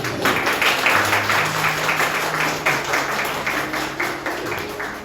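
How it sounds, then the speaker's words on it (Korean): An audience at a startup investors' pledge ceremony gives sustained applause, many hands clapping in a steady, pulsing wash that carries through to the end. "여러분 우승팀의 어머님께 감사의 박수를 부탁드립니다"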